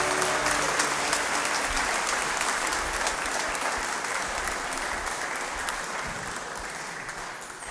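Congregation applauding at a church service, sustained dense clapping from many hands that fills the whole stretch and slowly tapers.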